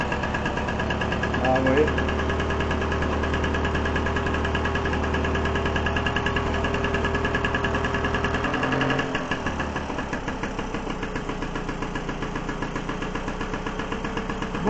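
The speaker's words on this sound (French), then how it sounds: "Donc, bon, le Solex s'est remis en route." A Solex 3800 moped engine abandoned for 20 years runs again, a steady close idling putter with vibration throughout, dipping slightly near the end, while someone speaks briefly over it.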